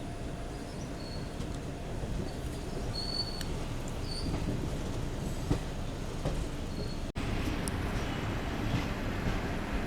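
The Garib Rath Express, an AC train on the route from Kayamkulam through Kottayam toward Ernakulam Town, gives a steady low rumble of wheels on track, heard from inside the coach, with faint squeaks and a brief click partway through.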